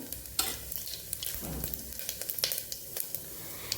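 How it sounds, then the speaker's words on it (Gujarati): Cumin seeds sizzle in hot oil in a pan for a Kathiawadi curry, a crackling hiss broken by frequent small pops and scraping stirs. "તો અહીંયા આપણું સરસ તેલ ગરમ થઈ ગયું છે, તો 1/2 ચમચી જેટલું આપણે જીરું ઉમેરશું"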